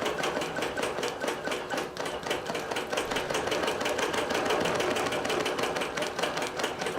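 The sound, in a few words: computerized quilting machine stitching a quilt pattern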